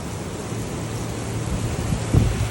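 Steady rain hissing down during a motorcycle ride, a dense even wash of noise with a faint low rumble and a slight swell near the end, no voices.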